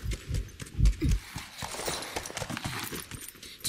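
A horse's hooves clip-clop in a soft, uneven run of thuds and knocks as a rider prepares to mount, faint against steady background hiss, with no clear talking.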